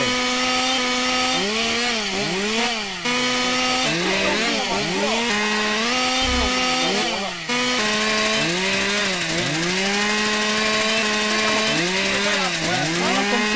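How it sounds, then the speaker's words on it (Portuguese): A chainsaw sound effect from a GTA San Andreas sound mod revs up and down repeatedly, its loud whining engine pitch rising and falling in continuous waves with no talk over it. "Motosserra, temos um áudio novo, tá?"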